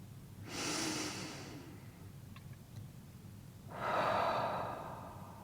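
A single deep breath during a guided meditation: a slow, airy inhale swells at first, pauses through quiet room tone, then a fuller breathy exhale, close and soft, with no talking.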